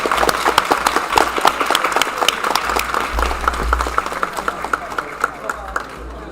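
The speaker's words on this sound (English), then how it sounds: "applause for the winner" Applause for the winner of a fencing bout at a sabre and longsword tournament final, steady crowd clapping throughout with crowd voices and shouts mixed in, and a low rumble of movement in the hall.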